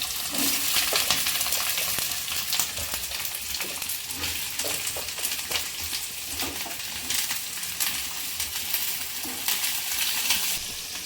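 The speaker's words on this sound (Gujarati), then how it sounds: "આપણું તેલ સરસ એવું ગરમ થઈ ગયું છે બસ આ સ્ટેજ ઉપર આપણે કેપ્સિકમ પહેલાં નાખી દઈશું" Chopped capsicum sizzles and fries in hot oil for a Jain tandoori paneer pizza topping, a steady loud hiss broken by frequent scraping stirs and clinks throughout, with no voices.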